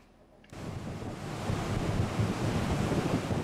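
Rough, storm-driven sea surf on the Bay of Bengal during a depression, a steady heavy roar of breaking waves mixed with wind buffeting the microphone, rising after a brief quiet start and staying loud throughout.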